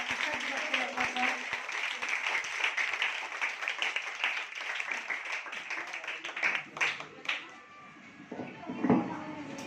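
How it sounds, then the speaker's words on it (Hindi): Applause greets guests at a Teachers' Day celebration as a cake is cut, a dense, steady crowd clapping that carries on for several seconds, thinning toward the end, with some talk and room noise mixed in. "जोरदार तालियों से स्वागत करिए आप शिक्षक दिवस के अवसर पर"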